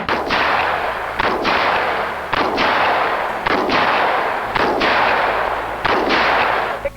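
Exhibition shotgun shooting with trap and skeet shells: six loud, sharp blasts fire about once every 1.1 seconds, each followed by a long, booming outdoor echo that fills the gaps between shots, with no talking.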